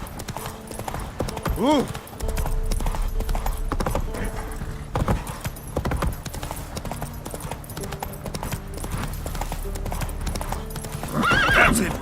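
Roach, the horse in The Witcher 3 video game, gallops with loud rapid hoofbeats and gives a couple of clear whinnies, one early and one near the end, while someone speaks briefly over the hooves.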